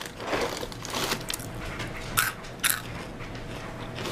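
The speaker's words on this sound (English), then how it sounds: "I got a snack on Honey Nut Cheerios." Dry Honey Nut Cheerios crunched as a bedtime snack, with a run of close, crisp bites and chews, two sharper crunches standing out near the end, no talking.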